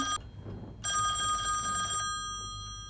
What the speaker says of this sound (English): He can make phones ring, he can.